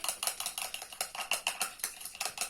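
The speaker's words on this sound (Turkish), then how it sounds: "Artık çırpalım." Eggs, three of them, whisked in a bowl while making a cake, a quick run of light clinking strokes in a steady rhythm, close and fairly soft, with no one talking.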